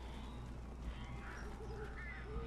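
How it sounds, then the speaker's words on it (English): Crows cawing and swarming in the video game Alan Wake, a steady mass of harsh bird calls over a constant low game rumble, fairly loud and continuous with no talk. "Save Barry from the birds"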